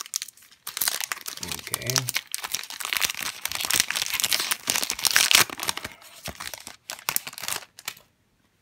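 Pokémon Lost Thunder card packs being torn open, dense foil crinkling and tearing close up for several seconds, with a voice and brief talk over it.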